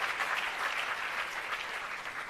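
Audience applause at an education event launching technology centres of excellence, a dense wash of many hands clapping steadily throughout, moderately loud, with no speech.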